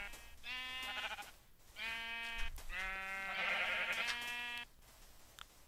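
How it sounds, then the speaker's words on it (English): Minecraft sheep bleat three times in close succession, each a wavering, nasal baa lasting about a second, the last one longest, near and clear with no talk over them. "That is a lot of sheep."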